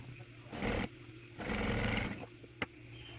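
A sewing machine stitches strips of fabric scraps face to face, whirring in two short bursts separated by pauses, close and clear, with a faint click near the end.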